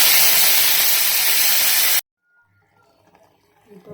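Hot oil tempered with mustard seeds, urad dal, cumin, curry leaves and coriander poured into a moong dal kootu, giving a loud, steady sizzling hiss for about two seconds that cuts off abruptly into near silence.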